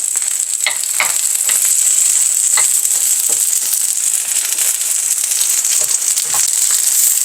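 Lettuce pancake fries on low heat in olive oil, giving a steady bright sizzle with scattered pops and crackles throughout, close and loud with no talking.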